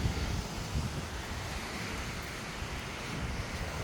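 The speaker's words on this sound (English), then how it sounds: "you can hear the ocean right next to you" Ocean surf beside a beach nature trail at Clam Pass in Naples, Florida: a continuous rushing wash of waves mixed with wind noise, steady and fairly close, with no talking.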